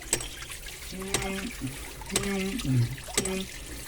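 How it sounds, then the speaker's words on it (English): Water spritzing and trickling from a valve in a water system, a steady wet hiss with periodic ticking clicks about once a second and someone talking over it. "There's this spritzing of extra water coming out here."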